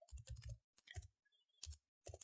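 Rapid bursts of keystrokes clatter on a computer keyboard, close and distinct, in quick clusters split by short pauses while a value is typed into an Excel spreadsheet.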